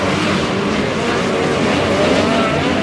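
Midget race cars roar around the Airport Raceway track, a loud, steady blend of engines droning and swelling as the pack runs close together.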